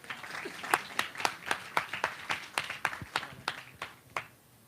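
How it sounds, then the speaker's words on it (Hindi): Sparse, distinct claps sound at a steady pace from a small audience at the closing of an education session in Indore, individual hands audible and fairly close rather than a dense roar. "एक बार जोरदार तालियां आप सभी के लिए।"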